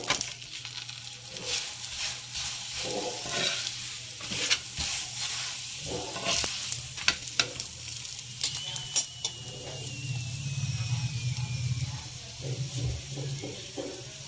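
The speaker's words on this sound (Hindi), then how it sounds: "हमें इसको पकाना हल्की आंच पे ही है, ताकि बेसन हमारा अंदर तक से पक जाए" A besan (gram flour) paratha brushed with oil cooks on a pan over low heat, making a continuous soft sizzle with scattered clicks and scraping, near and without speech.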